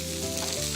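Basil with a pinch of pepper and salt sautéing in a pan, a steady close sizzle and crackle for a brief moment, with no voices.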